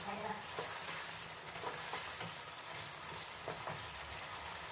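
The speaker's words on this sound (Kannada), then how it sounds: "ಮೊಟ್ಟೆ ಎಲ್ಲ ಚೆನ್ನಾಗಿ ಫ್ರೈ ಆಗಿ ಆದಷ್ಟು ಎಲ್ಲ ಎಣ್ಣೆ ಬಿಟ್ಟಿದೆ" Eggs fry in oil in a pan for an egg gravy, giving a steady, even sizzle with faint stirring scrapes throughout, fairly quiet and with no voices.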